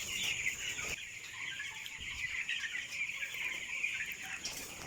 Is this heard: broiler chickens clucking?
yes